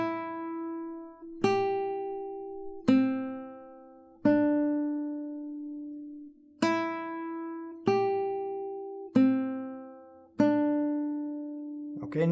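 Guitar melody from Jingle Bells, plucked single notes fretted on the second string, rings out alone as about eight clear, evenly spaced notes, each struck crisply and left to sustain and decay.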